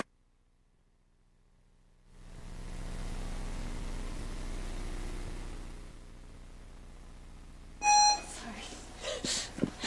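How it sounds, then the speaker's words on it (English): A timer sounds a short, bright electronic beep near the end, after a stretch of steady room hum at a university engineering presentation, followed by soft shuffling. "The beep."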